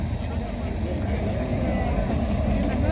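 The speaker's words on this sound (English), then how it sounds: "Got the F-16 out there now. A scale model of the Viper." A 1/5 scale radio-controlled F-16 Fighting Falcon model jet flies at an airshow, its steady roaring engine note held throughout under a commentator's voice on the public address.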